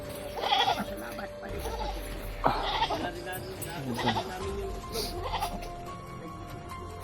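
A goat bleats several times at close range, its wavering calls mixed in with people talking nearby.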